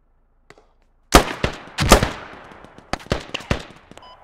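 Sharp, close gunshots ring out from the military shooter Squad, first a faint pop, then a cluster of loud cracks and several spaced single shots with echoing tails.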